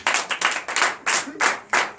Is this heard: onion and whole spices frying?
no